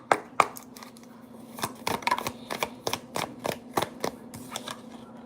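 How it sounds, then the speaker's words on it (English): A rapid run of crisp tarot card riffles and taps, close by, in irregular bursts with a steady low hum underneath and no talking. "All right, one more shuffle."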